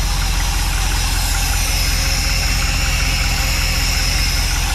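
A Mopar engine with a freshly rebuilt carburetor idles in gear, a steady, loud, close rumble with an even low throb and no voices.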